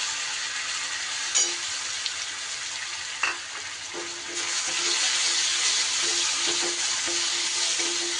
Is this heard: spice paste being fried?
yes